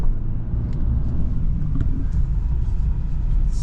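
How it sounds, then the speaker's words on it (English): An older Rolls Royce rolls past on a seaside road, a loud low rumble of engine and tyres close by, steady throughout the short pass with no talk. "Got an older car here. I think that was a Rolls Royce."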